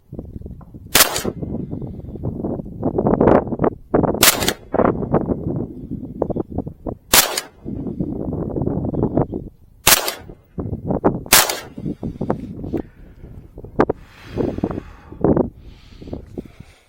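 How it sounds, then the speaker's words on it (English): An FN P90 fires single shots at an indoor range, five sharp loud reports spaced a few seconds apart, with echoing room noise and handling rustle between them. "I'll just pop off a few rounds"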